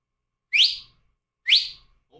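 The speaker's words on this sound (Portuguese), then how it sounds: "Se você for do bem, dá dois assobio!" Two loud, close human whistles, each a short rising then falling note about a second apart, heard alone in silence.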